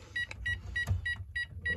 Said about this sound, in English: the beep of death from this system could be the keypad tamper